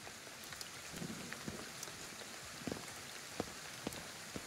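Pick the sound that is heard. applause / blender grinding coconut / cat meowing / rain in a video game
rain in a video game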